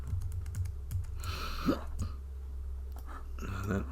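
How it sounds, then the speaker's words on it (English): A scattering of keyboard clicks, a few sharp taps and short bursts, mixed with faint rustling and a brief throaty sound, fairly quiet and close. "If you hold down the Option key on the keyboard"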